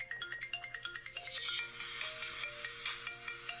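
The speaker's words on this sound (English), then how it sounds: "¿Qué tal el ringtone?" A phone ringtone plays faintly in the background during an interview, a quick melodic sequence of bright electronic notes repeating in a steady rhythm.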